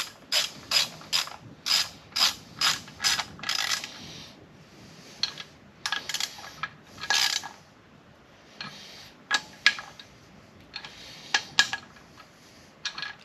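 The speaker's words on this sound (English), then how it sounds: "These are a lot smaller bolts, so I'm using my stubby ratchet." A stubby hand ratchet clicks in quick bursts as it turns small bolts on LS swap accessories with a high-mount A/C relocation, close and crisp, with pauses between sets of strokes and no voices.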